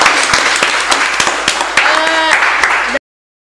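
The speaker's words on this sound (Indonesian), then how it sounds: "Tepuk tangan." A small group applauds during an Independence Day podcast recording, with loud, close clapping for about three seconds, voices mixed in, and a brief whistle-like tone near the end before it cuts off abruptly.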